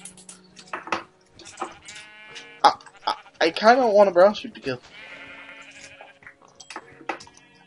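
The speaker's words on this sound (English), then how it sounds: "I'm gonna go beat these sheep to death with a bed." Sheep bleat in a video game, wavering cries rising mid-clip among brief game sound effects while people chat and laugh over them.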